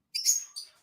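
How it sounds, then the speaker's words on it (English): Birds chirp outdoors in short bright tweets, one quick burst of calls followed by a second brief phrase, fairly faint and with no talk over them. "I got to tell you, Jason, the birds add a lot of livelihood to the audio."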